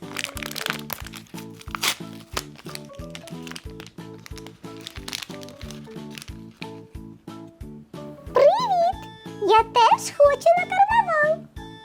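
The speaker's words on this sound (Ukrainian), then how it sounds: "І останній найголовніший пакетик з лялечкою. Я вже дуже хочу його відкрити." A plastic packet holding a doll crinkles and crackles repeatedly up close as it is opened, over a looping music track, with a voice speaking excitedly partway through.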